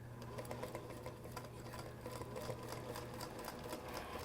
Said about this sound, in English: you're just going to sew exactly to where the line is